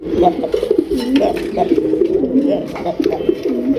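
Rajgolla pigeons at a crowded pigeon market, giving repeated low, throaty coos in a steady rolling rhythm close by, with voices talking in the background.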